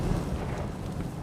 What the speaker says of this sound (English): an explosion in a flammable solvent storage tank at the Barton Solvents facility rocked the town of Valley Center, Kansas